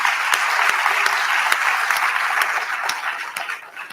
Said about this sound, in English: can we please give a round of applause to everyone behind the scenes today?